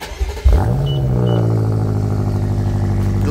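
A 2023 BMW M8 Competition convertible engine fires up after a short starter whirr, flaring loudly and then settling into a steady, deep idle rumble close by.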